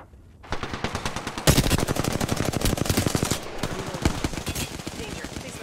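Sustained machine-gun fire from Apex Legends rattles in fast, even rounds after a brief quiet start, loud and close, holding steady for several seconds with slight shifts in intensity.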